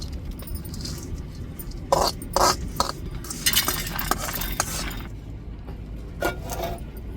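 Chana dal and dried red chillies roast in a pan for a ground fish curry masala. Scattered metallic clinks and scrapes of stirring ring out over a low, steady sizzle.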